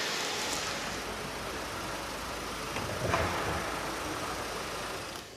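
Car engine running steadily while the vehicle sits on a roller brake tester during an MOT test, a continuous broadband rumble and hum with no talk, holding a fairly even level throughout.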